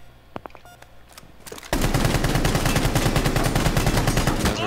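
Gunfire from the Rainbow Six Siege video game: a few sparse clicks and single shots, then a sustained burst of rapid automatic fire that carries loud and close to the end.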